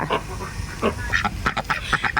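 Ducks quack nearby at a Thai farm café in a string of short, nasal honks, irregular and overlapping, growing more frequent toward the end.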